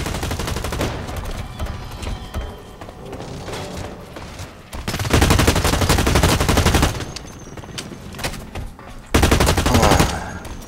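Gunfire in the online shooter Blacklight Retribution: dense bursts of automatic rifle fire, loud and close, coming in sustained volleys with brief lulls between them, no voices over it.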